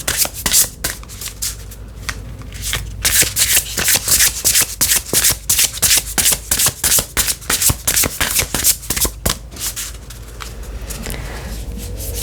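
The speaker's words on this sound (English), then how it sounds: "I want to mix these up good because I haven't used these cards." Tarot cards being shuffled close up, with rapid rhythmic riffling and flicking bursts repeated for several seconds and no talking.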